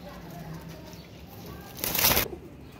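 Red-eyed pigeons coo softly at close range, then a brief loud burst of flapping wings sounds for about half a second before settling back to a faint background hum.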